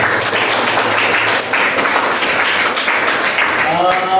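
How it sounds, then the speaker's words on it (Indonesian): A high school class applauds after a presentation, steady group clapping filling the room with some voices and chatter mixed in and a faint tonal sound near the end. "Beri tepuk tangan buat kita semuanya."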